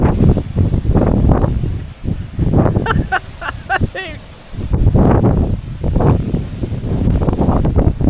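Strong wind gusts on a mountain top at around 50 mph, roaring and buffeting the microphone in loud, uneven surges with brief lulls, while a person talks intermittently beneath it.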